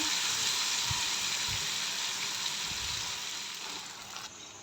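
Hot oil sizzles in a pan on a stove, a steady bright hiss with a few soft low knocks. It fades slightly toward the end, with no voices.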